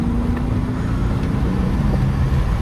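An Infiniti Q50 engine drones loudly and steadily up close in third gear on back roads, its low rumble rising slightly in pitch as it revs, with no talking.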